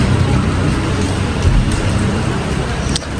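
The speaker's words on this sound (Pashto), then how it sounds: "بیا باران ورېږي" Steady, loud rain pours down outdoors through the whole stretch, a dense continuous hiss with a low rumble underneath and no voices.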